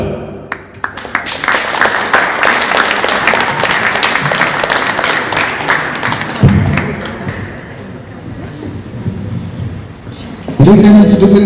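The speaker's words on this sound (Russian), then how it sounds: "Спасибо и огромное аплодисменты еще раз победителю." An audience applauds at the closing ceremony of the Republic Cinema 2 film festival in Yakutia, sustained dense clapping with a few thuds, fading slightly then rising again near the end, with a presenter speaking over it.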